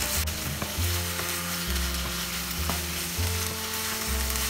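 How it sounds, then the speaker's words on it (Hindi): Soya granule veg keema being stirred in a pan with crushed roasted kasuri methi and garam masala: a steady sizzle with repeated scraping strokes and low thuds, close by, with no talking. "ये सब हमें अच्छा से मिक्स करना है"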